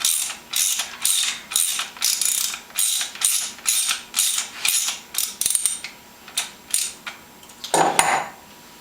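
Ratchet tightening a Honda Shadow Ace motorcycle fork cap, a rhythmic series of close, crisp clicking strokes, about a dozen in a row, slowing toward the end.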